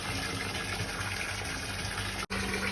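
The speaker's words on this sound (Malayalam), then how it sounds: "നമ്മൾ വെള്ളം മോട്ടർ ഓൺ ആക്കിയിട്ടാണ് വെള്ളം ചാടിക്കൊണ്ട്" Constant gushing rush of water driven by a motor pump through a main pipe in a fish-and-vegetable farming setup, loud and close, steady throughout with a brief dropout near the end.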